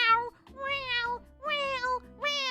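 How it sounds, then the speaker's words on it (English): A pet cat meows four times in a row, each call a drawn-out, rising and falling cry, fairly close and clear with short gaps between them. "I can't even stand when my cats start meowing."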